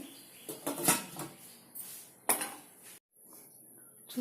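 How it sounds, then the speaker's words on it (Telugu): A lid set down on an AMC cookware pot while amaranth greens, moong dal and tomato cook, giving two sharp, close metallic clinks about a second and a half apart, followed by a brief hush. "ఒక్క ఒక్క సెకండ్ మూత పెడదామండి"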